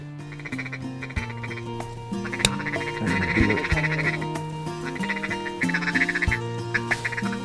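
Ducks quack repeatedly during a South Dakota waterfowl hunt, a busy overlapping chorus of nasal calls close by, with a couple of sharp bangs breaking through.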